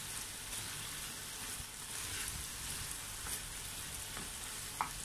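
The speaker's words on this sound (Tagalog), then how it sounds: "Saka po natin ito haluin muli para mag-combine po lahat." Pork mince with potatoes and carrots sizzles steadily in a pan while being stirred. The frying hiss is soft and close, with faint scraping and stirring noises.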